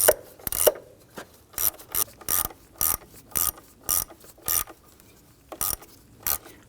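A hand ratchet snugs down the throttle position sensor screws on a 1999-2004 Jeep Grand Cherokee, a series of sharp, close clicking bursts in short irregular runs separated by brief pauses.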